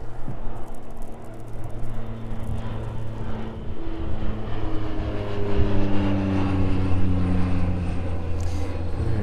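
Loud, steady roar of an aircraft taking off from East Midlands Airport, engine drone rising and shifting in pitch as it climbs away, sustained and unbroken with no talk.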